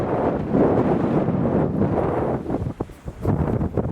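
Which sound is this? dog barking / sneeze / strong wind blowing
strong wind blowing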